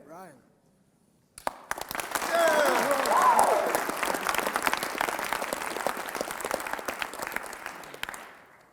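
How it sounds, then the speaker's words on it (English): High school audience clapping together at a speaker's session, a sustained burst of applause that swells, holds steady for several seconds, then tapers off, with voices mixed into the crowd noise. "Good clapping stuff."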